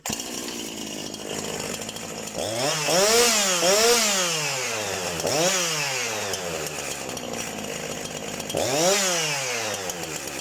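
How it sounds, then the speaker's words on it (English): A Husqvarna 353 chainsaw engine runs nearby, idling and revving up in repeated surges, loud and continuous. "the chainsaw is completely dialed in, it runs perfectly."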